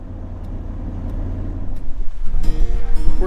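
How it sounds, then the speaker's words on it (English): Road traffic rolls past near a campsite at Arches Provincial Park on the East Coast, a steady low rumble that swells as a loud vehicle passes close by at the end. "The traffic is a little noisy though."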